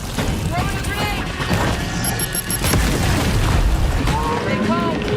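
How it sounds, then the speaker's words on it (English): A grenade thrown and exploding in a video game: deep, heavy booms and crashing rumble fill the clip at high volume, with game voices and sound effects layered on top. "Throwing a grenade!"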